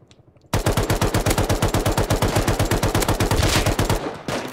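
Rapid automatic gunfire from a shooter video game set on an oil rig, a loud, dense burst of shots fired in quick succession for several seconds before cutting off.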